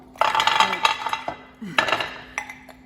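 Hard frozen sweet dumplings rattle and clink against a nonstick-coated metal pan in two bursts of clattering, close and fairly loud, with a faint steady hum beneath.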